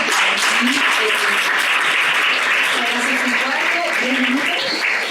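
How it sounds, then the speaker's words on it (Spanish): Dense, sustained applause from a conference audience thanking panel speakers on sexual citizenship, loud and even throughout, with faint voices beneath. "les damos un gran aplauso."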